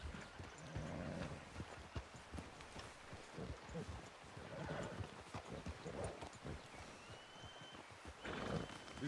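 Horse in Red Dead Redemption 2, its hooves thudding in a quick, steady gallop over outdoor game ambience, moderately loud throughout with a faint whinny-like cry.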